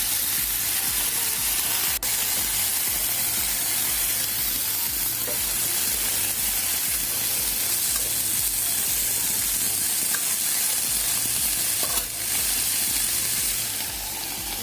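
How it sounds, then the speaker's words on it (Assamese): Bottle gourd leaves sizzle and fry in a pan while being stirred, a steady close crackle and hiss running throughout with soft scraping movements and no talk. "এতিয়া শাকখিনি ভালদৰে লাৰি দিলোঁ।"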